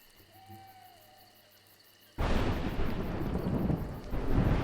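In a video game, after a quiet stretch with a faint hooting call, a sudden loud wash of heavy rain and rumbling thunder bursts in and keeps roaring steadily.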